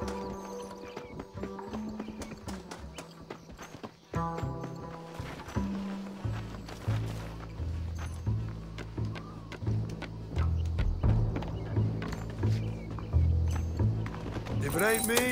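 Horse hooves clip-clop steadily in Red Dead Redemption, a fast rhythmic gallop with occasional neighs, rising loud after a quieter opening where a voice speaks over game music.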